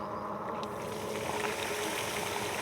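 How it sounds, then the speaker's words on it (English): A RadRover 5 e-bike rolling along a wet path after heavy rain, its tires hissing and splashing continuously through standing water, close and steady with no talking. "Yeah, we're splashing pretty good here."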